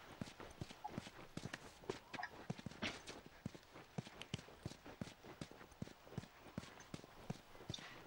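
Horse hooves clip-clop steadily on the ground in The Last of Us video game, a brisk continuous walking rhythm of close, distinct hoofbeats with no talk over them.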